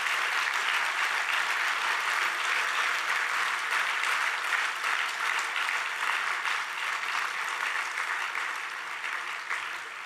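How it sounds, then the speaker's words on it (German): A large crowd at an Ash Wednesday political rally welcomes the Europe minister with loud, sustained applause that rolls on evenly for about ten seconds and eases slightly toward the end. "ich bitte euch jetzt um einen kräftigen Applaus für die Europaministerin"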